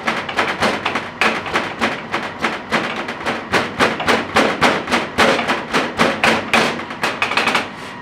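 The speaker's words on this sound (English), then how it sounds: "back in with your rolling pin and pound that ginger up with the garlic" Rolling pin pounding ginger and garlic in a home kitchen: a rapid run of about two dozen sharp, close thuds in an uneven rhythm, loud and clear, with no talking.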